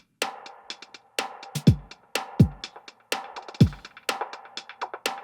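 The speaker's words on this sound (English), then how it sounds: "Some effects there on the hi-hat to get some trippy kind of delay effects happening" Hi-hat in a jazzy pop drum beat, treated with trippy delay effects: sharp ticks trailing into echoing repeats, with punchy kick hits recurring at a steady groove, loud and up front with no voices.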